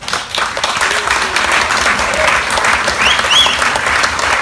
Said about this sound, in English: Give a big round of applause to Madeleine